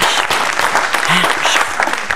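A studio audience at a family game show bursts into loud, dense clapping that holds steady throughout, with a voice faintly audible underneath.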